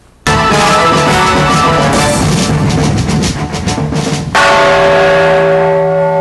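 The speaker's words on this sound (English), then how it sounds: "United Nations Secretary General Kofi Annan rings the UN peace bell to initiate an historic event." The UN peace bell is struck at the United Nations, its loud metallic clang ringing out and then a second strike leaving a long sustained hum that fades slowly.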